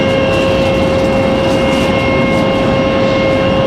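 Frontier Airlines airliner in the Flower the Hummingbird livery, on final to land at Raleigh Durham airport, a constant dense engine roar with a steady high whine, close and loud, no talk.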